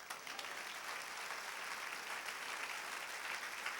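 A church congregation applauds during a Spanish-language sermon, a steady, even wash of many hands clapping, heard faintly and evenly for nearly four seconds with no talk over it.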